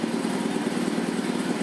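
A 1960s Quincy 230-32 air compressor with a 3 hp Dayton Dyna motor charging a 30-gallon tank runs steadily in a shop, a dense continuous mechanical drone and chugging with no talk.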